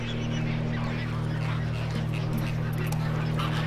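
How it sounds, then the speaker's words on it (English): A huge flock of flamingos calls at Lake Bogoria, a continuous massed honking and chattering from many birds, held at an even, moderate level over a steady low hum. "more than a million flamingos flock to Bogoria"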